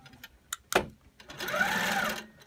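A Handiquilter longarm quilting machine stitching, a steady close mechanical whir starting after a couple of sharp clicks and knocks, running continuously to the end.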